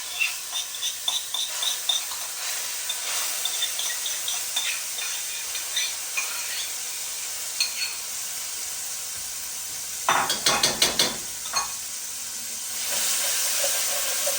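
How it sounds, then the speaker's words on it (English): Onion garlic paste sizzles steadily in canola oil in a pot, a close hissing fry broken by clicks and stirring scrapes, growing louder toward the end, with no talking. "this stuff is really sizzling and there's no liquid and it's nice and thick"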